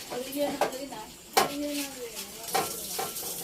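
Stirring dessert in a pan on a stove, soft scraping and light clinks of a utensil against the pan with faint sizzling, while children talk over it.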